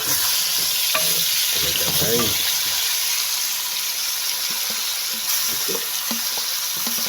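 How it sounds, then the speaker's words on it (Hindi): Curry paste for an egg and potato curry frying in a pan, a constant hiss of sizzling oil with bursts of stirring and scraping near the start and lighter spatters later. "अब इसको हम मज़ीद फ्राई करते चले जाएंगे"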